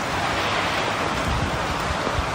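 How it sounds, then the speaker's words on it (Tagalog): Strong floodwater rushes through a village as a broad, steady roar of churning water, loud and unbroken from start to finish. "Malakas ang agos ng tubig sa barangay."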